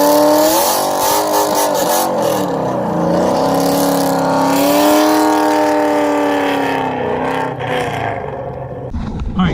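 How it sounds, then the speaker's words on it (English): A 4th-generation Chevrolet Camaro SS roars through a long, loud burnout, its V8 revving and sustaining a strained tone while tires spin, then the engine drops off near the end. "what kind of 4th-gen Camaro review would this be if a burnout didn't happen?"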